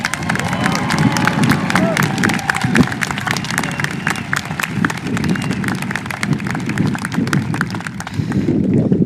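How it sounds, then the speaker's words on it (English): A large audience at a high school commencement claps steadily and loudly throughout, a dense wash of applause with murmuring crowd noise mixed in. "would everybody give him a round of applause?"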